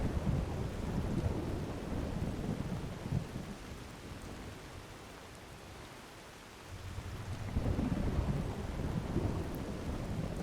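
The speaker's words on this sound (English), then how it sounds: "I can't imagine having to run around in the rain in a thunderstorm." Rain pours steadily during a thunderstorm in the video game Skyrim, with deep rolling thunder swelling in and out, easing briefly midway before building back to a heavy roar.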